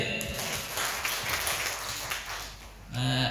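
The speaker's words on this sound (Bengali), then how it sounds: "আমার একটু করতালি হতে পারে?" An audience at an investment project programme for a hotel and resort in Kuakata applauds after a presentation, a steady wash of many hands clapping that fades out before a voice begins speaking.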